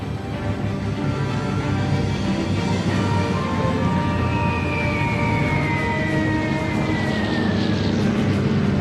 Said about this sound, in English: The snow has stopped, replaced by American planes which pound the German positions.